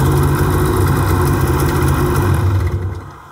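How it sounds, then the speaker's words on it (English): A Ski-Doo E-TEC snowmobile engine idling at a raised idle while it runs its summer storage routine, a loud, steady low drone that begins to fade as it shuts itself off near the end. "It bumped up the idle and once it's complete,"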